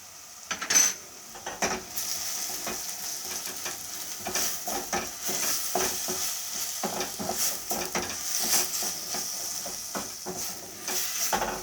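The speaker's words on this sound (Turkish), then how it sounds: "ve bir su bardağı arpa şehriyemiz güzelce kavuralım şimdi bunu." Orzo pasta toasts in a pan while a utensil stirs it, making repeated scraping and clinking strokes against the metal over a continuous frying sizzle, close and fairly loud.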